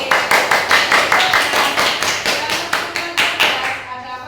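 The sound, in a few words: class clapping for Mas Viko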